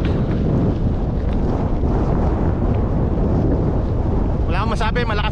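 Strong head and cross wind buffets the microphone on a mountain bike trail ride along a fence, a loud, constant roaring rush with a brief voice near the end.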